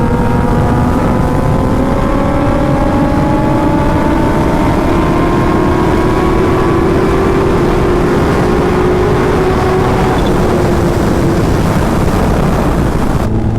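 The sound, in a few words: sport motorcycles racing, Kawasaki Ninja H2 and Hayabusa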